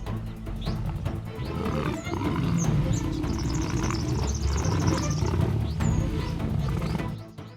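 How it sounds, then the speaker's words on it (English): Lions fighting in the wild, with low, rumbling roars and growls that swell and continue, close and loud, mixed with heavy breathing and a few faint bird calls. "Low roars blend with heavy breaths."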